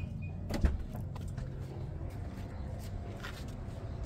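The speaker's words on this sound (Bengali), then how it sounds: "ব্যাক ডোরটা ওপেন করলাম" A power back door on a 2016 Nissan X-Trail Hybrid opens with a steady electric motor whir, starting with a brief click and running evenly for about four seconds at moderate closeness.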